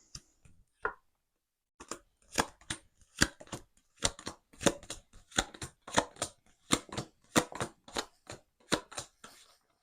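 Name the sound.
tarot cards being cut by hand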